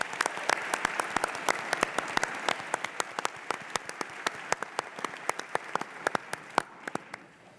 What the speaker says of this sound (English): Let's give Dave a great round of applause.